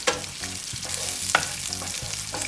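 Beef sausage frying in a pan, a steady sizzle with repeated scraping strokes of a spatula stirring at a close, even level, and no talk.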